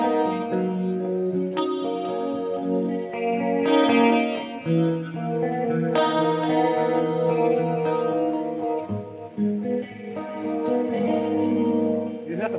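Clean electric guitar with an 1980s-style tone, run through an Avid Eleven Rack, rings out in sustained chords and arpeggiated notes thickened by chorus and echo, loud and steady throughout with no talking.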